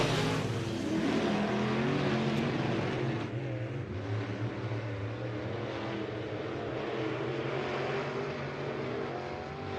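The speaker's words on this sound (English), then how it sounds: "This is our 6th and final heat for the Sweet Tea Express IMCA Modifieds" IMCA Modified race cars roar off at the green flag in a dirt-track heat race at Southern Oregon Speedway, a loud, dense wall of engine noise with rising revs that holds steady throughout.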